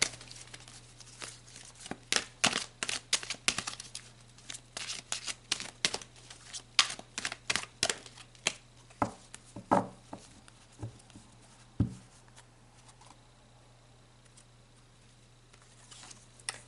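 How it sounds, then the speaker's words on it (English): Tarot cards drawn one after another from a deck, producing a run of sharp papery snaps and shuffles in quick irregular bursts over a steady low hum, thinning out toward the end with a few isolated flicks. "So let's pull some more cards"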